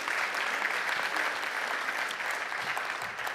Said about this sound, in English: if you want to, I'd be happy for a clap